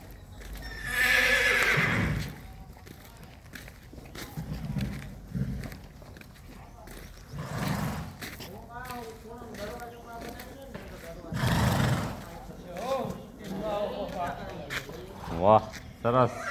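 Horses in a stable neigh and whinny several times, with shuffling hoof clops and movement between the calls, while people talk nearby throughout.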